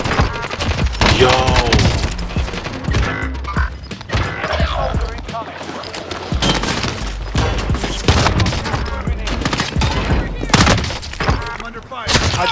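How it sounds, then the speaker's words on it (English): Gunfire in a video game, with bursts of sharp shots and impacts scattered across the clip while several people talk and shout over it. "I'm under fire."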